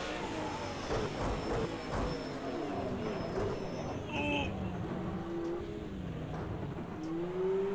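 A racing car engine screaming at high speed down a long straight at Monza, pitch climbing through gear changes, with rival cars including a Lamborghini nearby; a voice talks over it.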